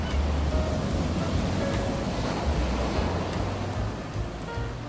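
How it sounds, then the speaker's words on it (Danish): Steady surf washing onto a beach, a continuous wash of broadband noise with soft recurring low swells, moderately distant and without any voices. "en gang imellem skyllede en stor bølge ind på stranden"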